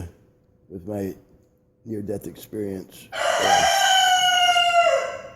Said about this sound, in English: be ready to hear the roosters crowing